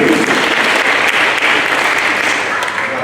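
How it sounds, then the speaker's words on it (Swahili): A church congregation at a Kikuyu service applauds a guest, dense sustained clapping from a large crowd, loud and even throughout. "Tuko na mgeni mmoja pale, tupige makofi mazuri."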